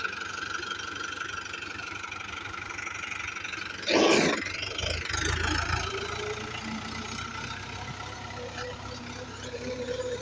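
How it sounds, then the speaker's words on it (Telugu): A large tractor engine idles with a steady low drone throughout, with a brief louder burst of noise partway through; faint voices are mixed in, on a farm field where planting beds are being made. "ట్రాక్టర్, పెద్ద ట్రాక్టర్"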